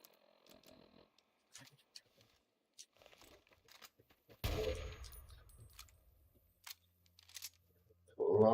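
Rifle gunfire from a Scout Rifle in Fallout (Tale of Two Wastelands mod), a few sharp isolated shots with one loud burst mid-clip, set against quiet game ambience.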